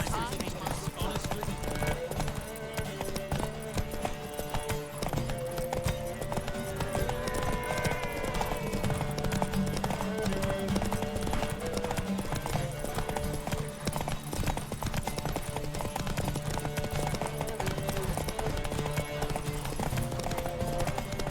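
Horse hooves gallop at race pace in the Witcher 3 game, a steady clip-clop drumming that runs throughout, with occasional whinnies over a continuous bed of music.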